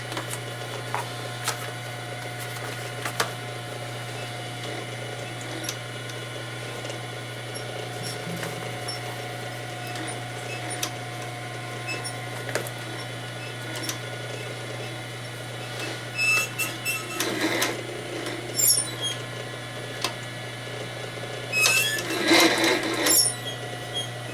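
A sewing machine stitches a Croc bag top, its steady motor hum running throughout with a few faint clicks and two louder bursts of mechanical rattling near the end.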